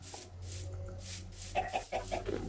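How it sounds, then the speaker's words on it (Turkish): Chickens in the video game Minecraft give several short, distinct clucks in the second half, set against a steady low hum with no talking. "Dur şu tavukları keseriz."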